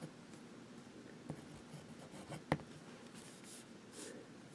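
A fountain pen with a medium nib scratches softly across paper in a faint, steady rhythm, with one sharper tap partway through.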